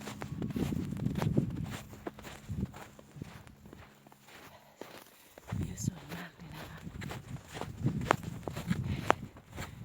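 Footsteps crunching through snow on a Swiss alpine hiking trail near Kandersteg and the Gemmi Pass, a steady walking rhythm close by with someone talking over much of it.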